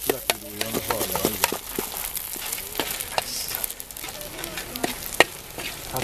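Food sizzles and crackles in a hot pan, with scattered clinks and scraping from stirring, a steady frying hiss throughout.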